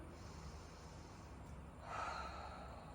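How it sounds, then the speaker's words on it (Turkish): A single deep breath drawn in slowly, then let out, with a soft rush of air that swells near the end; quiet and close, with no talking. "Derin nefes alıyorum."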